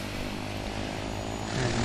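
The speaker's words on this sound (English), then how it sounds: "As you can hear, there's the engine turning on and all that good stuff." A propeller aircraft engine starts up in Flight Simulator X, a steady droning whir that swells slightly toward the end with no talking.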